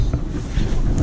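Blizzard wind in Minnesota buffets the microphone outdoors in a short, loud, low rumbling gust that roars steadily throughout.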